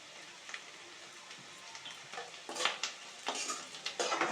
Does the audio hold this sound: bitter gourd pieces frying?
yes